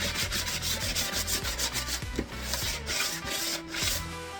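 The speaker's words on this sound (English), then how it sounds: "I pulled it out, sanded it a little bit" Sandpaper rubs back and forth in a steady rhythm over the corners of a wooden sliding piece for a laser engraver miter station, giving a close, continuous scratchy sound with no talk.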